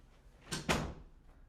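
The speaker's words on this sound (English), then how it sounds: "Big door shut." A big door shuts indoors: a soft first knock followed by a heavier thud as it closes, two quick impacts alone in a quiet room.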